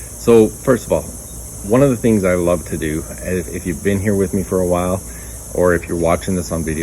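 Cicadas buzz steadily in a backyard, a faint continuous high drone running beneath someone speaking close to the microphone throughout.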